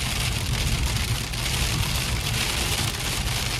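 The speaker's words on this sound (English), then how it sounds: "You guys can see it in the windshield and how they're hopping off the car right now." Sizable hailstones pelt a car's windshield and body during an April 2024 hailstorm in Bakersfield, California, giving a loud, dense, continuous rattle of hard impacts that stays steady throughout, with no talking.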